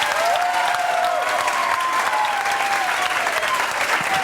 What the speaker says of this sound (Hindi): जोरदार ताली बजाओ इनके लिए